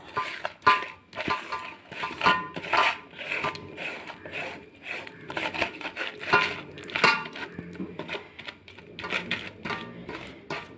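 Sliced potatoes being mixed into egg batter in a bowl, a busy run of wet clacks, scrapes and clinks against the bowl in an uneven rhythm, close and fairly loud with no talking.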